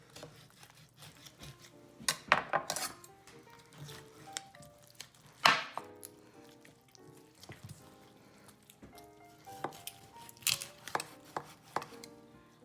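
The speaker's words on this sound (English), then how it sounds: "I'm cutting through the cartilage and I'm cutting through the joint here, trying to preserve the skin." Boning knife cutting through poultry cartilage and joint: irregular sharp snaps, cracks and thuds of the blade on the board, with quieter scraping and clinking between them and no voices.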